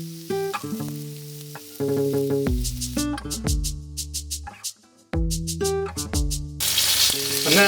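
Lemon sole fries in a pan with half a lemon and a teaspoon of butter, a steady sizzle running beneath loud, bright music and swelling into a broad hiss near the end.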